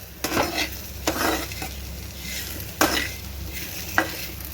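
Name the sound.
roasting thuthuvalai greens with tamarind in a pan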